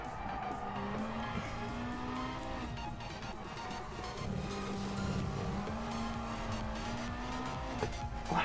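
A race car in Gran Turismo Sport, an Alfa Romeo 4C in a Clubman Cup race, with a droning engine that rises and falls as it accelerates and brakes, plus tire squeal through the corners.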